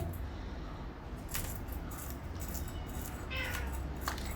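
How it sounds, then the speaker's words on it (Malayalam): An orange cat meows a few times, faint and brief, amid a busy room with metallic clinks and rattles around a fish-cutting spot. "അമ്മായി നോക്കുന്ന പൂച്ചയാണ് ഇത് ഓറഞ്ചു"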